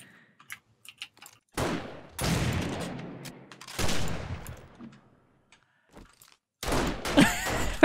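Bursts of gunfire aimed at a creature in the zombie survival game 7 Days to Die, Alpha 18 multiplayer, with several short volleys separated by near silence and a louder rapid burst at the end.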